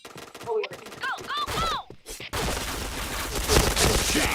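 Rapid gunfire bursts from a shooter video game, dense crackling shots filling the second half after a stretch of higher game sound effects, with some voice activity mixed in.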